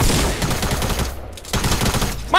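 A TAC SMG submachine gun in a video game fires fast, rattling bursts, loud and close, with a brief pause midway before the automatic fire resumes.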